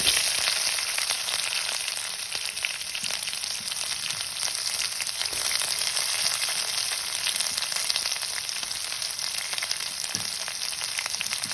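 Onions, fenugreek, fennel and mustard seeds fry in hot oil for a traditional Vilai Meen fish curry, giving a steady, dense, close sizzle throughout with no talking.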